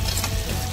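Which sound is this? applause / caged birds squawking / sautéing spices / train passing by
sautéing spices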